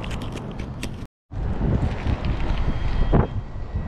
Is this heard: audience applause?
no